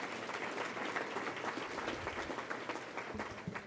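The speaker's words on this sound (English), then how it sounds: "let's give another huge round of applause to Dan Holmes, who took our photos today." An awards ceremony audience breaks into dense, sustained applause, many hands clapping steadily at full strength for several seconds.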